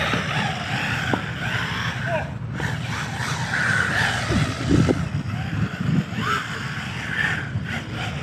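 A 1/14-scale MJX 14303 Citroën rally RC car drives hard and skids: a steady high electric whine with gritty tire scrapes and brief scuffing bursts, fairly close and continuous for the whole stretch.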